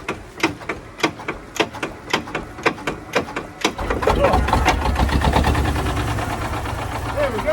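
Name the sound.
Thwaites dumper engine starting and running in the cold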